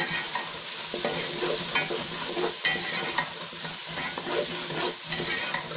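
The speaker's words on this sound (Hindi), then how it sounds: "टमाटरों को थोड़ी देर भूनेंगे।" Tomatoes frying in a pan for aloo gobi, a steady close sizzle broken by repeated scraping stirs of the spoon, with no talking.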